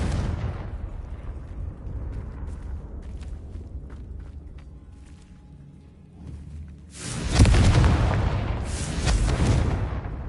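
A Confringo spell blast from Hogwarts Legacy goes off in a loud burst near the end, after a stretch of low rumbling ambience, with a second boom following close behind.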